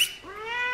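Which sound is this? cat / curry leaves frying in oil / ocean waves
cat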